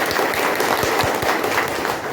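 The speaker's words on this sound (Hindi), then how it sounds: "एक जोरदार ताली बजानी चाहिए" Audience applause at a motivational business seminar, a steady, fairly loud patter of many hands clapping together for about two seconds.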